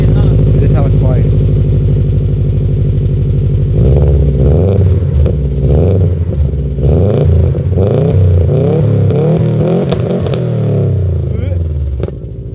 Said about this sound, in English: It's like a really deep rumble